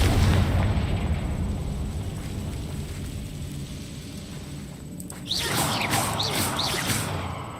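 A Confringo fire spell explosion in Hogwarts Legacy: a loud, rumbling blast that slowly fades, followed by a sharp fiery burst with whooshing crackles near the end.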